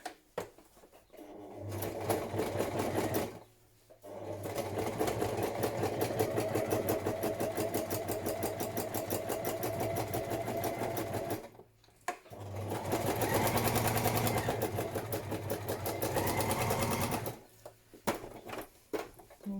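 A sewing machine stitches a padded patchwork journal cover in long continuous bursts, its rapid needle rattle steady and close. Two brief pauses break the run, and there is no talk.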